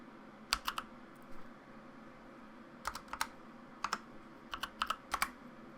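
Computer keyboard keys clatter in short bursts of quick taps while a CAD feature is renamed, separated by pauses over a low steady room hum; no one speaks.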